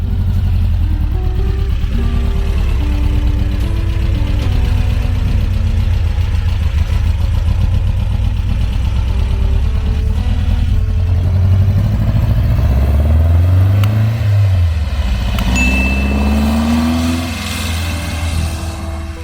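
A 1974 VW Super Beetle with a 2054cc stroker engine idles loudly and close, its air-cooled engine clattering steadily, then revs and pulls away as the pitch rises and shifts, staying prominent throughout with no talking.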